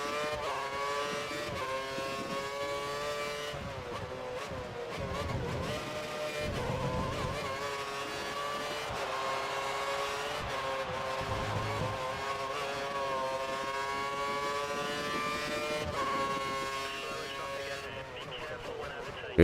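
Race cars in F1 2013 at the Spanish Grand Prix, a steady high-pitched engine whine rising and falling through gear changes with a dense pack of cars ahead, constant and fairly loud; a voice talks over the engines.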